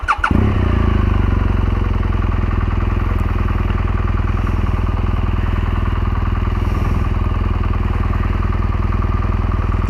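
A 2014 BMW R1200GS Adventure motorcycle cranks and fires up close by, then settles into a loud, steady, throbbing boxer-twin idle that runs throughout.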